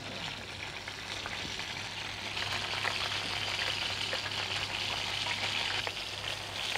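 A beef fillet sears in a hot pan, giving a steady, close sizzle and crackle throughout, with a low background hum underneath and no talking.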